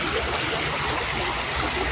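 River water rushing steadily, a broad, constant hiss of flowing current close by with no clear voices over it.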